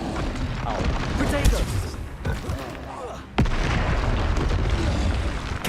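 Confringo explosive spell blasts in Hogwarts Legacy come as repeated booming bursts, with a sharp heavy impact partway through followed by sustained rumbling fire and crackle, loud and dense throughout.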